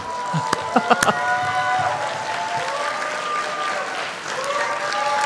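A crowd clapping steadily in a room during a church youth worship service, the applause sustained throughout with a few louder claps near the start and a faint voice underneath.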